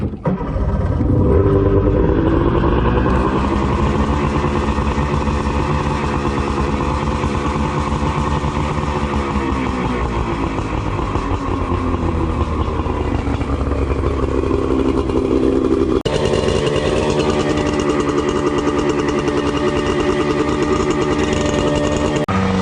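A 1998 Johnson 50 HP outboard motor runs steadily and loud throughout, its engine pitch rising and falling as it revs, with a mechanical clatter and no talking over it.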